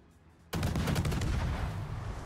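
The German cruiser Wiesbaden's guns open fire in a naval warship game: a sudden loud blast that rolls into a sustained rumbling barrage of rapid shots, with no voices.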